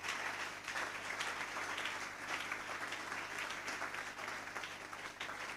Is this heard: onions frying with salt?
no